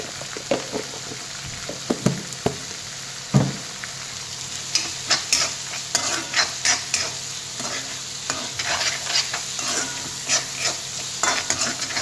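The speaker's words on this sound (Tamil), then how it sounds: "தக்காளி கூட உப்பு போட்டு நல்லா சாஃப்டாக ஆகிற வரைக்கும் வதக்கி வச்சுக்கலாம்." Tomatoes with salt sautéing in a pan, a steady close sizzle under frequent scraping stirs of a spoon, no talking.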